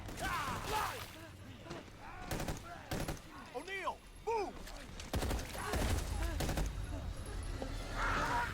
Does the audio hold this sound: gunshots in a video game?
yes